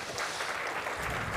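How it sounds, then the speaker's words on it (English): A conference audience applauds a speaker at a blockchain event stage in Bogotá, a brief, dense wash of clapping, moderately loud and continuous. "Let's give her a round of applause."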